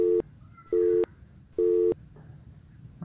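A telephone call tone sounds while someone rings their mother: three steady, clean beeps spaced about a second apart, each lasting roughly a quarter to a third of a second, over a quiet background with no talking.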